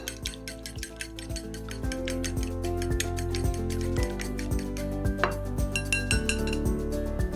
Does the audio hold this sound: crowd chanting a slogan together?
no